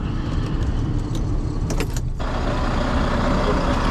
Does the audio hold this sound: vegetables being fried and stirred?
no